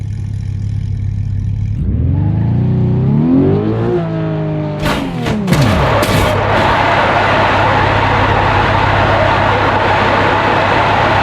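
A Porsche 911 in BeamNG.drive, in a cars-versus-tornado run, accelerates hard with a rising engine whine through several gear sweeps. A few sharp clattering impacts follow, then a loud, constant roar at high speed.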